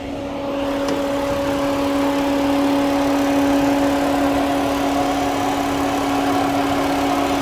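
A 2005 BMW 330xi engine runs at a steady idle, a smooth, even mid-pitched drone with a constant tonal hum, close and unchanging throughout, with no one talking.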